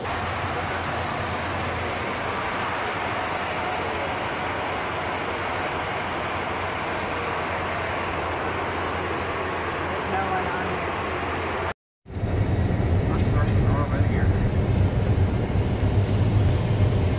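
Airplane cabin noise on a crew-only repositioning flight to Missoula, a loud constant broadband roar with a low hum, briefly cutting out before resuming slightly louder, with speech present.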